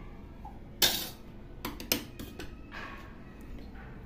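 A spoon knocks and scrapes against a bowl while sour yogurt and turmeric are stirred, with a sharp clink first and then several lighter taps and scrapes spaced irregularly, close by and fairly quiet, with no talking.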